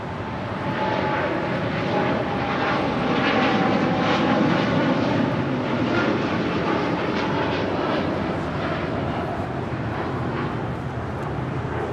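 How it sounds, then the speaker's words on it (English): United Boeing 787-10 Dreamliner taking off from Los Angeles International Airport, a loud sustained jet engine roar holding steady and broad throughout, heard from nearby with no talking. "The 787-10 Dreamliner is taking off to Tokyo Haneda."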